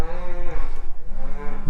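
Cattle lowing as a herd is driven home along a farm lane, two long, loud, close moos with a pause between them.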